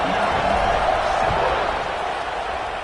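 A stadium crowd roars in a dense, sustained wash of cheering at kickoff in the college football video game NCAA 26, loud and continuous throughout.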